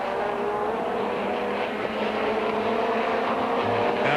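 Tim Sugden's BMW M3 touring car racing in the 1990 British Touring Car Championship, its engine droning steadily and loud throughout, with no speech.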